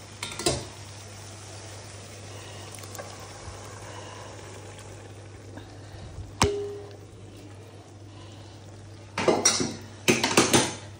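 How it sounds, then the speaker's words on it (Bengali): Pre-boiled tarka dal goes into a pan of cooked spices. Occasional metallic clanks and a cluster of utensil clatters stand out over a quiet background. "এবার আমি আগে থেকে সেদ্ধ করে রাখা তরকার ডালটা এর মধ্যে দিয়ে দেবো।"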